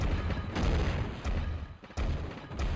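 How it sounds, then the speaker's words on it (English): Explosion sound effects from classic first-person shooter games such as Quake map packs, a series of heavy booming blasts with rumbling low ends, several distinct hits separated by short gaps. "The explosion sounds are from various games"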